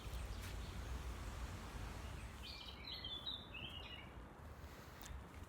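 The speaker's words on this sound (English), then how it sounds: "Gotta love them birds, yo." Birds chirp outdoors in a brief cluster of faint tweets midway, well in the distance under a steady low wind and ambient rumble.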